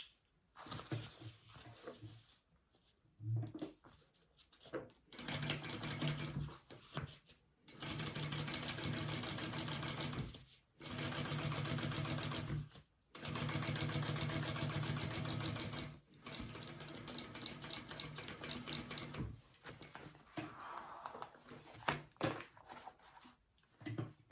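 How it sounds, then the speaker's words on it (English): A sewing machine top stitches across the backing piece of a sling, running in a steady whirring hum broken into several long bursts with short stops between, close and alone. "we are going to top stitch along this backing piece right along here through the seam and top stitch all the way across"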